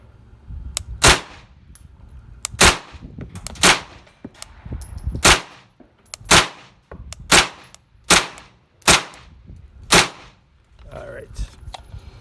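Ruger PCC 9mm pistol-calibre carbine fired at a 25-yard target, about nine sharp, loud shots spaced a second or so apart in a steady deliberate rhythm, each with a brief ringing tail, and no talking between them.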